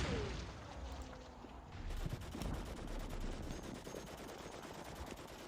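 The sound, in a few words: gunfire in a Gallipoli wargame video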